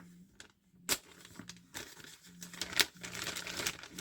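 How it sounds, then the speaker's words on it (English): Plastic packaging for a Team Associated SC6.4 RC car kit is slit and torn open nearby, giving several sharp crinkling and tearing bursts over a soft rustle, with no talking. "No, well, let's cut it open."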